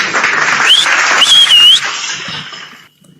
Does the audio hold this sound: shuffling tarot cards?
no